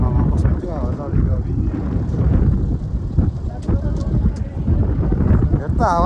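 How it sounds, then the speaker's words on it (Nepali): Strong wind in Mustang, Nepal, buffets the microphone with a loud, continuous rumble while people talk over it throughout. "कस्तो हावा चलेको"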